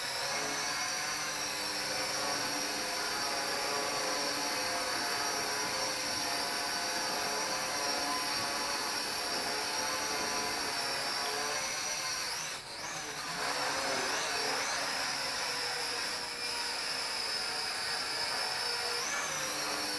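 An HT F802 quadcopter drone, its motors lubricated with mineral motor oil, hovers with a continuous high buzzing whine of spinning propellers, steady and fairly close, with brief pitch wobbles as it shifts.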